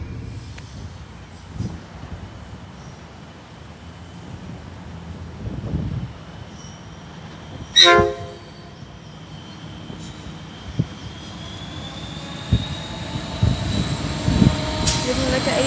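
Train hauled by NR-class locomotives NR62 and NR4 passing on a line bound for Brisbane, a low, steady engine rumble that builds gradually, with a brief horn-like tone near the middle and a voice speaking over it.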